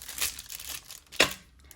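A small piece of parchment paper is crumpled by hand nearby, giving soft crinkles and then one sharper crackling crunch, with no talking.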